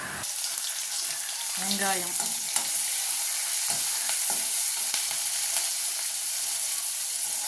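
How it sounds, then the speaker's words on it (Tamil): Cinnamon, cloves and fennel seeds splutter in hot oil for a spleen fry, giving a loud, even hiss with scattered crackles and a brief tonal whine in the background. "பட்டை, லவங்கம், சோம்பு போட்டு இது பொரிஞ்ச உடனே வெங்காயம்"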